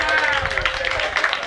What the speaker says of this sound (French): Est-ce qu'on peut applaudir déjà pour docteur Beka,